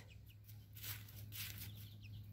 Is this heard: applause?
no